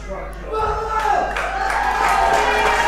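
Wrestling crowd at an Outcast Pro Wrestling show cheering and shouting for a fan favourite, a loud, steady roar swelling after a brief start, with voices mixed through.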